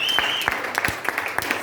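Church congregation applauding at a Sunday service in Brussels: a dense patter of clapping with sharper individual claps at a loose, steady rhythm, close and fairly loud, with a high tone faintly audible at the start.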